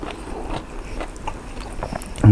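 Crunchy bites into the crackling skin of a Thai roast suckling pig, a run of close, crisp snaps and chewing with no talk.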